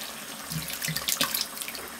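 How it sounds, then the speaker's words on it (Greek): Water pours steadily into a pan of simmering minced meat sauce for a cinnamon-spiced pastitsio, a gurgling splash that rises and swells for a couple of seconds, close and alone without talk. "Θα προσθέσω και το νεράκι που έχω εδώ αντί του κρασιού."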